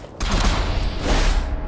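Turret gunfire in Fallout 4 with the Sim Settlements 2 mod erupts as a dense, loud burst of rapid shots, sustained and harsh throughout the short moment.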